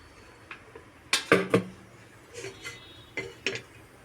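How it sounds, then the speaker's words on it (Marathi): A kadhai is set down on a gas stove to heat and oil goes in: a few sharp metallic clinks and knocks, fairly quiet and close, scattered over a faint hushed background. "आता मी गॅस चालू करत आहे कढई ठेवली गरम करायला आता आपण इथे दोन चमचे तेल टाकून घेणार आहोत"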